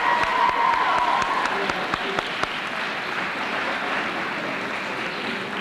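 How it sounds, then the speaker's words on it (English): Sustained applause from an audience at a high school fine arts festival, steady dense clapping with a few sharper individual claps standing out near the start, filling the room throughout. "Corey Taylor, Jessica Fiedler, I think we should give him a round of applause, don't you?"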